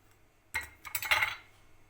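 A spoon tips fennel seeds into a spice mix, giving a close, quiet rattle and clink: one sharp tap, then a brief scattering patter that fades quickly into quiet.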